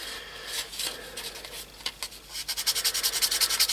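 Fine-grit sandpaper rubbing car bodywork on a Jaguar E-Type, first slow scattered scrapes, then a quick steady back-and-forth rasping rhythm, close and fairly quiet.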